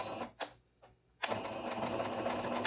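A sewing machine stitching a seam with a 3/8-inch allowance for a New Look 6737 garment. A few short stutters at the start give way to a steady, continuous whirring run close by.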